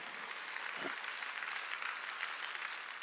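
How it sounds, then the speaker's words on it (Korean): A church congregation claps together in steady, continuous applause at a moderate level, a dense wash of hand claps with no voices on top. "박수를 쳐야죠"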